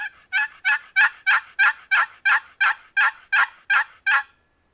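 A wooden box call imitates a hen turkey's yelp: about twelve raspy notes in a steady, even rhythm, close and clear, then silence.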